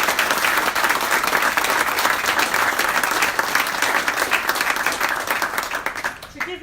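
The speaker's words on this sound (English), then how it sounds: "so a big round of applause for Robin Faulkner and Tommy Britton" A large audience at a goalball awards ceremony applauds loudly and steadily for several seconds, dense clapping throughout, tapering off at the very end.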